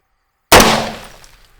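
A 7.62x51 rifle round strikes a pane of ballistic glass: after silence, one sudden loud sharp crack with a bright shattering edge that decays over about a second.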